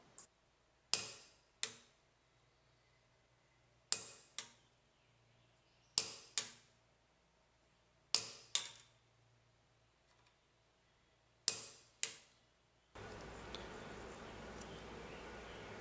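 Sharp chisel struck with a hammer to cut thin metal for a seax fitting: crisp, close metallic impacts, mostly in quick pairs, spaced over several seconds in a quiet room, followed by steady broadband noise at the end.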